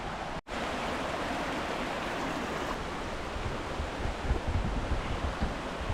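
A pretty creek near an abandoned Civil War era mill runs with a steady, broadband wash of flowing water, continuous and fairly close, with no voices over it.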